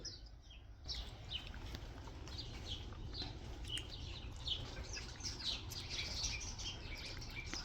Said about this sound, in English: Lots of birds out here right now.